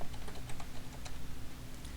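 Quick, light keystrokes on a computer keyboard while code is typed, an uneven run of soft clicks heard close up over a steady low background hum.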